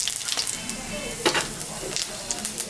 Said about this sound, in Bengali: মাছ ভাজা তেলের উপরে শুকনো লঙ্কা জিরা সম্বরা দিলাম।